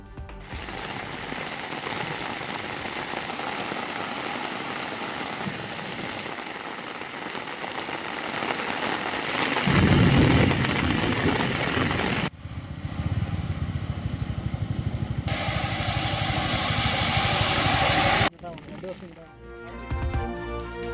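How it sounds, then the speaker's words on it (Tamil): Heavy hail and rain hammer down during a storm in Valparai, Coimbatore district, a dense, loud roar of falling ice and water that shifts across several cut-together scenes; distinct thunder is not clearly picked out. "கோவை மாவட்டம் வால்பாறையில் பலத்த இடி மின்னலுடன் வெளுத்து வாங்கிய ஆலங்கட்டி மழை"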